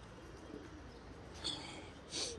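Pigeons cooing softly in a loft after being bathed, a couple of faint, brief calls standing out against steady background noise.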